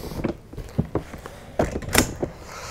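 ISOFIX connector on a Rant IQ Genius Line child car seat clicking into place, a few sharp plastic-metal clicks and knocks spread unevenly, close and distinct, with no talk.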